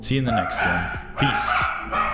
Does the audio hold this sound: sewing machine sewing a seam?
no